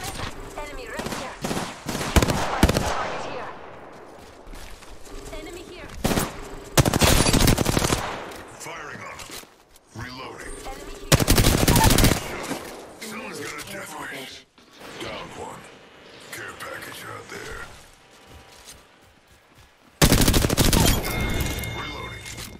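Bursts of automatic gunfire from the video game Apex Legends, several loud rapid volleys separated by quieter gaps, with a player talking between the shots.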